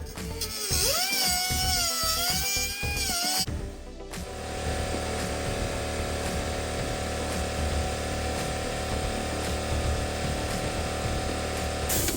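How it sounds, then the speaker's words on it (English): A die grinder whines at high speed for a few seconds while working on parts from a 1973 VW Westfalia van, then drops into a lower, steady mechanical drone that runs to the end. "let me go ahead and grab the die grinder"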